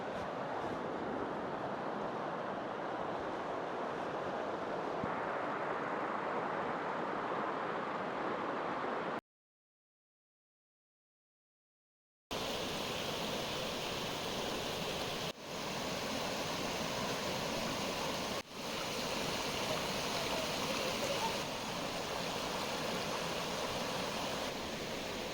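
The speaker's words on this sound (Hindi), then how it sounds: "परिंदों का शोर, पत्तों की सनसनाहट, दरिया के पानी की आवाज़" River water flowing steadily in Kumrat valley, a constant broadband rush heard close and alone, briefly cut to silence partway through before resuming.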